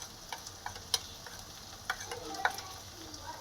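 Onion with ginger paste, garlic paste, chilli powder, turmeric, coriander, cumin and salt sautéing in a pan, heard as a faint sizzle broken by scattered clicks and scrapes of stirring.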